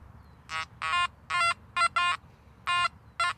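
A Makro Gold Kruzer metal detector sounds a series of short, tonal beeps of varying length, an uncertain signal jumping toward iron, clear over a low background hum.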